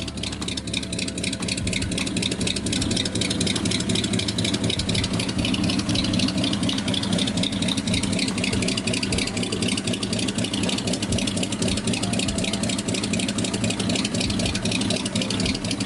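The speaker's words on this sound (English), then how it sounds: "listen to the exhaust on this thing" A Ford 390 FE V8 engine idles with a deep, lumpy exhaust burble, steady and close throughout with no talking.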